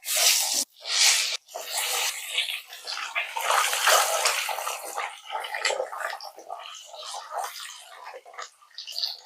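Eggs fry in hot oil with chili powder and turmeric, giving a loud, close, continuous crackling sizzle with a couple of brief breaks near the start.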